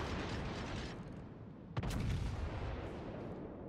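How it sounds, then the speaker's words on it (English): Enemy ship guns boom in World of Warships naval combat: continuous rumbling broadband gunfire with one sharp report standing out midway, fairly distant and heavy. "Oh, he's firing at me."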